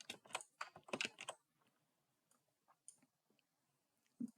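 Typing on a computer keyboard while entering an SQL join query: a fast burst of close, crisp key clicks at the start, then sparse scattered taps, with no talk.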